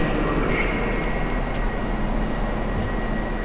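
An Arriva RP passenger train in Poland rumbles past in a steady, loud, continuous roar with no break in level and no voices.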